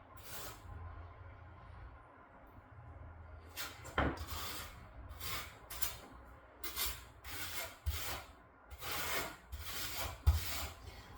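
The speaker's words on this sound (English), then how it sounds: "now I'm using my 1/8 by 1/8 grout or trowel" A notched 1/8 by 1/8 inch trowel spreads mortar for shower floor tile, giving repeated rough scraping strokes in short bursts, close up and fairly quiet, with no talking.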